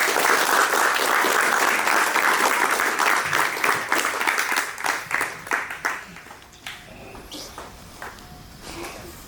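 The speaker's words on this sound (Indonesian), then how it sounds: "Kita tepuk tangan dulu." Audience at an Indonesian education event with children learning noken bag weaving claps loudly together, the dense applause thinning after about six seconds into a few scattered, fading claps.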